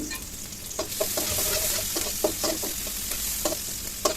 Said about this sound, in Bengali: প্রথমে আমি এখানে অল্প পরিমাণে তেল দিয়ে পেঁয়াজ কুচি দিয়ে একটু বেজে নেব